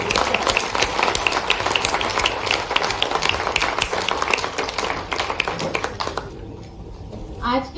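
A crowd at a live Chief Minister's industrialists' dialogue event applauds a welcome, with steady, dense clapping from many hands filling the hall before it fades out near the end, a voice mixed in.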